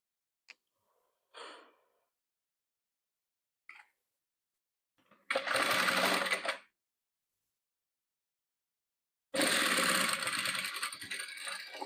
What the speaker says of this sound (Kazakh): Енді бұлай ақ тігеміз.